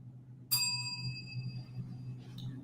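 A single bell strikes once with a bright, clear ding whose ringing tone fades over about a second and a half above a low steady hum, with no talk over it.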